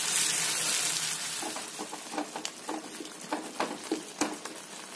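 Tomatoes sprinkled with salt sizzle steadily in a pan for poondu kozhambu, a garlic curry, with soft scraping stirs and light spatters growing more distinct toward the end; no voices.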